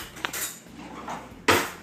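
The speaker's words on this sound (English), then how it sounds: "your little spoon, just kind of go into the foam and stir it up" A small spoon stirs the foam on a glass of freshly made kale juice, giving light clinks against the glass and a sharp, louder clatter toward the end, with soft swishing in between.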